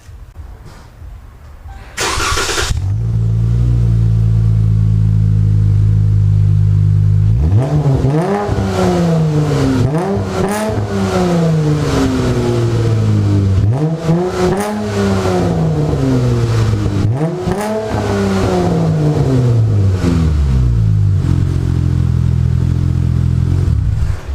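A car engine with a Vicrez BD cat-back exhaust and a deep exhaust note idles, then revs up sharply four times in a steady rhythm, each rev rising and falling back, loud and close.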